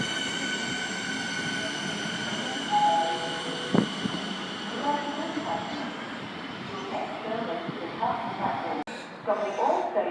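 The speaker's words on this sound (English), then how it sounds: "Siemens is now departing." Siemens electric train pulling out of Roxburgh Park station in Melbourne, a steady rising motor whine with high tonal hum, wheel noise and a brief sharp squeal, people talking faintly in the background.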